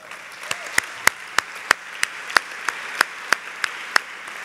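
A gun reform event audience claps, distinct evenly spaced sharp hand claps standing out above a soft murmur of crowd noise, fairly close and steady.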